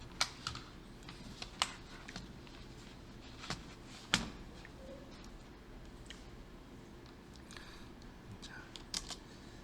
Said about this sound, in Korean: 프롬프트에서 파이썬 한 칸 띄고 빼기 2개 버전이라고 입력하고 엔터를 치세요.